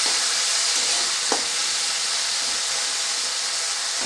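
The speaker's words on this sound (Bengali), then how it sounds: "টমেটোটা দিয়ে আমি 2 থেকে 3 মিনিট এবার কষাতে থাকবো।" Tomato fries in oil in a pan for Bengali bata fish curry, giving a continuous close, even sizzle and hiss with one brief tap of a utensil partway through.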